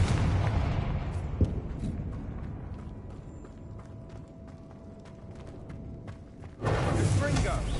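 Blast from the Confringo spell in the Hogwarts Legacy video game: a sharp impact burst near the start, a quieter stretch with scattered clicks, then another loud burst near the end, with a voice speaking.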